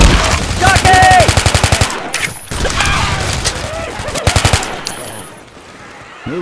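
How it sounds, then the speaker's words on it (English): Rapid automatic gunfire bursts from a zombie survival shooter game, loud and close, with a long rattling volley followed by shorter bursts, impacts and game effects, while players' voices come through between shots. "Keep shooting, man. Keep shooting."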